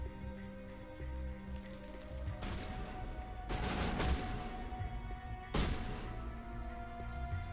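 Gunfire in the video game Mass Effect sounds as dense, crackling bursts over a droning game backdrop, with heavier volleys partway through and another burst near the end.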